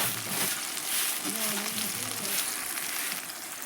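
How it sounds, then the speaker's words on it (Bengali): Onions frying in oil for a village-style duck curry, a dense continuous sizzle and crackle filling the pan, steady and close throughout. "পেঁয়াজটা একটু ভালোভাবে ভাজা হোক"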